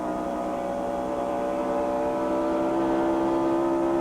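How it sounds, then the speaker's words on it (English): Greg Sacks's number 33 NASCAR stock car runs on the track at the 1996 Coca-Cola 600 at Charlotte, a loud, sustained, rising engine whine that holds steady and swells slightly toward the end. "You hear the motor sound of 33 with Greg Sachs back out on the track again."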